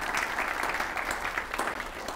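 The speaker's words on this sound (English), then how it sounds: "A round of applause for the sponsors and the supporters of this breakfast series." Steady applause from a crowd at a breakfast event, dense clapping that holds at an even level throughout with no voices on top.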